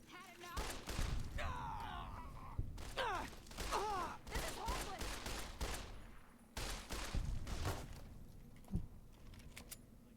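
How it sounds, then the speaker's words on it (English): High-caliber gunfire in the Fallout: New Vegas game, sounding as repeated sharp cracks and bursts amid steady battle noise, with a voice talking over part of it. "What are you shooting me with? You're shooting with something high caliber anyway"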